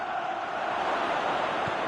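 Stadium crowd noise in the eFootball PES 21 football game, a steady broad wash of cheering and applause that holds at an even level throughout, with no voices.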